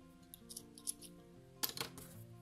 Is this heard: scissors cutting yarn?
yes